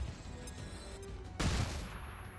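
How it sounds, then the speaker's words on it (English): A flashbang grenade in the XCOM 2 video game goes off with one abrupt, loud broadband burst that decays quickly, following a quieter stretch of low game ambience. "we may as well find out whether the flashbang works or not"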